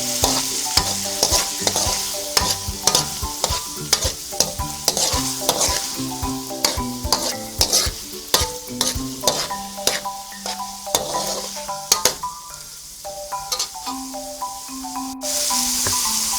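Food being sautéed for ginisang saluyot after soy sauce is added: a spatula scrapes the pan in a quick, regular rhythm over a constant sizzle, close and loud, with no talking.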